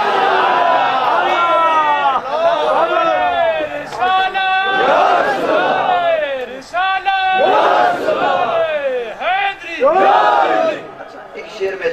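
At a mehfil naat gathering in Ali Haider Pur, Talagang, a large crowd chants religious slogans in loud, rhythmic call-and-response bursts, voices swelling together in repeated waves with short gaps between shouts.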